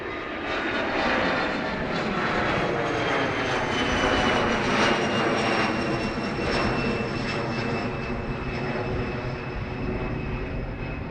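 Jet airliner on runway 28 right at Dublin Airport, a steady loud roar of engines holding throughout with a slowly shifting whine, no speech over it.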